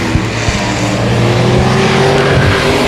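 A dirt-track race car engine roars steadily and loudly at the 281 Speedway, sustained full-throttle droning with faint pops from the field around it.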